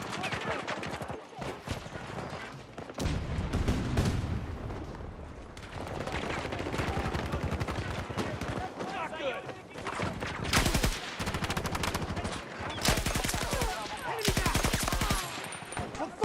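Suppressed gunfire in the video game Battlefield 6, with repeated bursts of muffled shots over roughly sixteen seconds and a steady bed of game sound beneath them.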